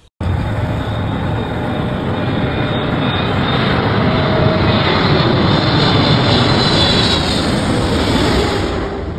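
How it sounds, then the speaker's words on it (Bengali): An Emirates airliner passes low overhead on its approach to land, a loud continuous jet roar that swells slightly and holds steady for several seconds, with no voices. "দুবাইয়ের বিমানটি এখনই ল্যান্ড করতে যাচ্ছে। একটু শব্দ শোনাচ্ছি আপনাদেরকে।"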